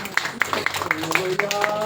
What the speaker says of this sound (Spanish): Un fuerte aplauso por la vida de mi hermano.